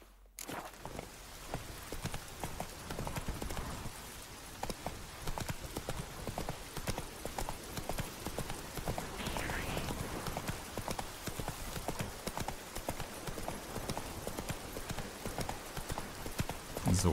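Horse hooves clip-clop at a steady walking rhythm while riding in The Witcher 3. The rhythmic, moderately loud hoofbeats continue throughout over a soft ambient game background.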